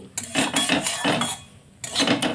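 Semolina frying in oil for sooji halwa is stirred with a spoon: three bursts of brisk scraping strokes against the pan, with a short pause between the second and third.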